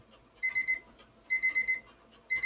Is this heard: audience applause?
no